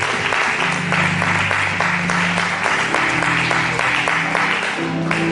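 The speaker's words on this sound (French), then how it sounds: "On acclame très fort pour le Seigneur" Church conference congregation in Metz clapping and cheering loudly for the Lord, a dense, sustained wave of applause with shouts mixed in, with music playing underneath.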